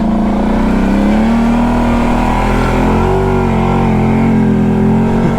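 A Kawasaki Brute Force ATV fitted with a snorkel, in four-wheel drive low, revs hard and continuously, its loud engine drone rising and wavering in pitch while stuck in mud.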